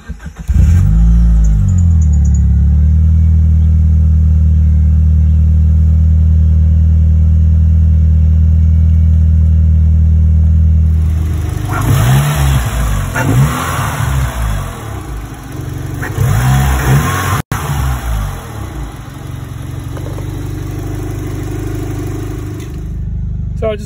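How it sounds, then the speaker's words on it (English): A 1990 AWD Talon with a 5-speed, its engine cold-starting: a loud low steady idle rumble, then a rise into rougher, fluctuating revving near the microphone, with no talk. "Cold start."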